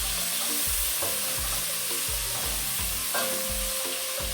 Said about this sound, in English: So let our onions cook.